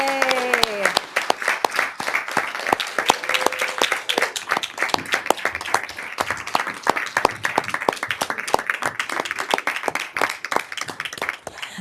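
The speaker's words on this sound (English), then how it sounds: "please stand and let us give you a great big round of applause" Dense, steady applause fills a school district board meeting room, many hands clapping continuously at close range, with a brief cheer of voices at the start.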